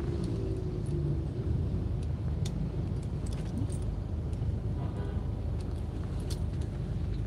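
A jam of vehicles idles and creeps along the road. Their engines make a steady low rumble throughout, with faint scattered higher noises on top.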